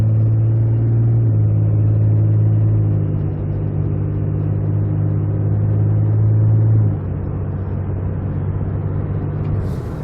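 A 6.7 Cummins diesel pickup with a non-VGT turbo cruising on the highway gives a steady, loud low-pitched engine drone and road rumble, holding an even tone before easing slightly lower partway through.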